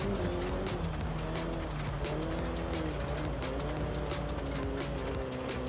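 Car engine driving hard in the racing game Forza Horizon 5, a loud, steady engine roar with tire noise and a dense, unbroken wash of road sound, no talk.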